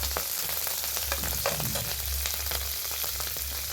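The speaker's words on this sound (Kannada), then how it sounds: "ಸ್ವಲ್ಪ ಕರ್ಬೇವಿನ ಸೊಪ್ಪು ಹಾಕ್ಬಿಟ್ಟು ಸ್ವಲ್ಪ ಫ್ರೈ ಮಾಡಬೇಕು" Curry leaves with cumin crackle and sizzle steadily in hot oil in a pan while a drumstick masala gojju is cooked, a continuous close frying hiss with faint stirring clicks and no talk.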